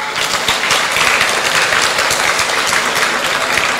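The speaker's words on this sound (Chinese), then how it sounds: "来个掌声鼓励一下好不好" An audience at a seminar on Australia and New Zealand working holidays claps together in sustained, dense applause that stays loud and even from start to finish.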